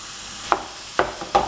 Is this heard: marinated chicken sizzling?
yes